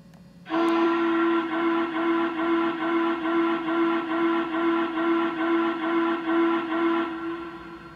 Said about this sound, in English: You'll hear my locomotive's whistle blow rapidly